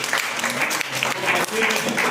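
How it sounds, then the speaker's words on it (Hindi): Loud, steady clapping rises from a church congregation praising the Lord during a sermon, with voices mingling in beneath the applause. "प्रभु के लिए जोरदार ताली बजाएंगे"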